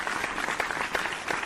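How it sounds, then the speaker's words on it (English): Clapping from a small group of people in a studio setting, a steady dense patter lasting a moment with no talk over it. "Everybody clapping"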